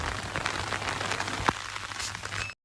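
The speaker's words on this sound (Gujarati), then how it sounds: "વરસાદ આવી ગયો" Rain falls steadily on open farm fields of cotton, a dense, even patter close by with no voices, cutting out briefly near the end.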